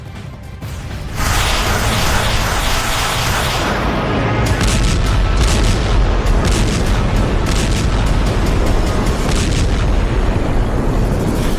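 Heavy booming blasts from Russian air strikes on Kyiv, a loud continuous roar of low rumbling explosions that swells after the first second and holds steady, with no talk.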